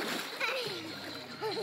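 Water splashes as a child jumps into a backyard swimming pool, with adults and kids talking over the steady sloshing and splatter.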